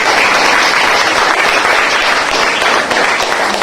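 Audience at a school retirement felicitation for a teacher applauding loudly, a dense continuous burst of clapping from many hands that stays strong throughout.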